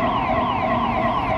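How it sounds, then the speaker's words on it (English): A steady wailing alarm tone from a car, sustained and fairly loud with a smooth sweeping pitch and no pauses, heard alone. "this car alarm went off"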